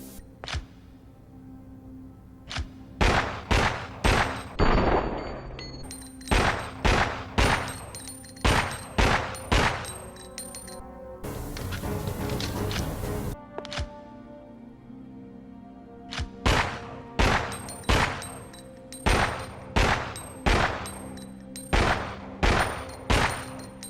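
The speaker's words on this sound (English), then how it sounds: "the handgun HP definitely has a unique sound from the other handguns" Shots from the HP handgun, a 9mm high-power pistol in a zombie video game, ring out in a rapid series of sharp, loud reports with short gaps and one longer burst, nobody speaking over them.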